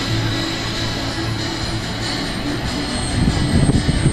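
A turbine-powered RC model Albatros jet flies a landing approach with full flaps at an airshow, a steady jet whine and roar that grows louder toward the end.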